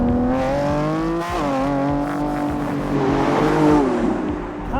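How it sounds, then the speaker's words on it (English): A Lamborghini Revuelto's hybrid V12 revs loudly and close, its pitch rising and falling through several gear pulls with no one speaking. "by going electric, they haven't subdued or muffled their V12. They've just made it better."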